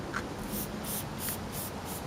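Car Plan polish sprayed onto a car in a quick series of about five short, crisp hissing bursts at a steady rhythm, close and fairly quiet, with no voices.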